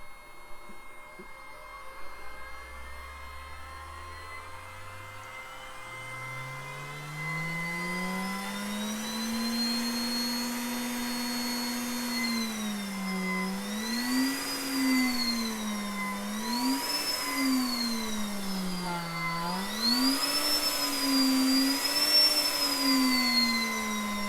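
Electric motor of an inflatable car winding up from a low hum into a rising whine, then holding and repeatedly swelling and dipping in pitch as the throttle is worked, loud and close with no talking.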